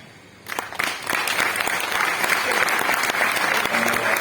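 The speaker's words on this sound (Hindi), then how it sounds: "आपको ताली बजा रहा है।" Audience applause at a Hindi-language motivational talk breaks out suddenly after a quiet start and holds as a dense, steady wash of clapping hands filling the rest of the clip.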